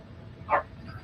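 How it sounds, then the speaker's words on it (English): A single short, sharp bark or yip from a dog outside wanting to be let back in, moderately close against a low steady background hum. "he'll keep barking like that"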